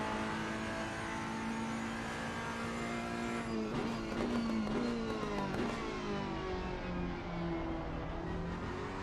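Race cars in the racing game Assetto Corsa Competizione: a steady, loud engine drone with rising and falling revs as gears change over about nine seconds, with one car surging closer midway, and no talk.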